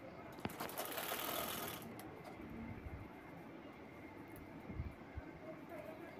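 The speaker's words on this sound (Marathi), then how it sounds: "म्हणजे झिपची दुसरी साईड पण याच पद्धतीने आपण शिवून घेतोय।" A sewing machine stitches the second side of a zip onto a fabric bag. The needle makes a fast, soft, continuous whirring chatter, fairly quiet and close, with a slightly stronger burst near the start.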